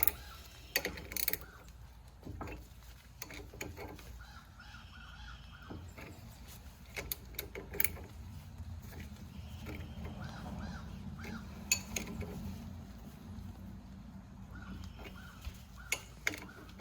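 Screws on the rear wheel bearing of a 1971 MG Midget being snugged down in alternating turns, with intermittent ratcheting clicks and mechanical taps at close range against a quiet shop background.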